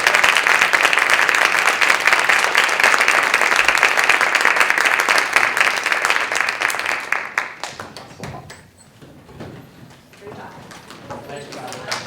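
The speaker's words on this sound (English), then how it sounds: "Could I ask for another round of applause for these awesome people?" Full-room applause at a school committee meeting runs strong for about seven seconds, then thins to scattered claps and quiet murmuring.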